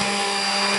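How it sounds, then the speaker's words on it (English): Blender whirring steadily while mixing oils for goat milk soap, a constant close motor whine with a steady hum underneath, no talking. "Take my blender and push down around the edges while I'm doing it"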